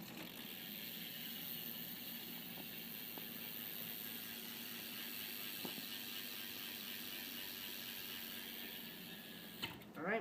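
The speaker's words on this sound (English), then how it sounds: "You gotta do a hub sound." A stock rear hub on a BMX bike ratchets softly as the bike coasts, a faint steady clicking whir that runs the whole time, with a brief knock near the end.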